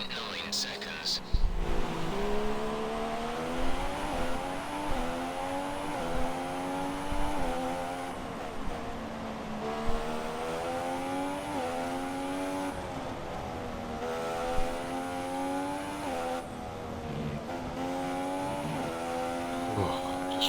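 F1 race car engine in the F1 2016 game at the Mexico circuit, a high revving whine rising and dropping through repeated gear shifts, steady and prominent under someone talking over it.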